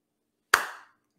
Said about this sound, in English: we got to give that slow clap